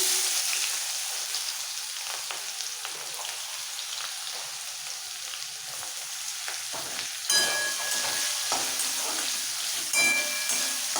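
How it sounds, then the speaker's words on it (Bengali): Steady, dense sizzling of chopped onions frying in oil until browned fills the whole clip, with a few louder crackles and the clink of a spoon stirring near the end. "পেঁয়াজটা লাল করে ভাজতে হবে"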